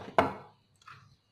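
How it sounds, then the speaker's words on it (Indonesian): A single hard thump from pounding in a stone mortar (cobek), close and fairly loud, followed by a faint scrape a moment later. "siapkan cobek buat ulek ininya"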